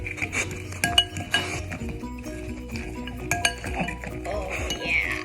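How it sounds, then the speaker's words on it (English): Banana cream pie ingredients are mixed in a bowl, with repeated bright clinks and scrapes of a utensil against the bowl in an uneven rhythm, close and clear beneath a steady background hum. "Gotta mix this together."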